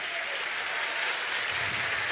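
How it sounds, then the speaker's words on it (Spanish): Audience applause for young symphony orchestra musicians at a concert, dense and continuous clapping filling the room at a steady level. "por aplaudir con tanto ánimo a estos jóvenes músicos"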